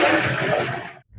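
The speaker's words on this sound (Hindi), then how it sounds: "ये आप देख सकते हैं पानी हमने सारा डाल दिया है।" Water gushes into a large cooking pot (deg) for village-style rice, a loud continuous pour that cuts off abruptly near the end.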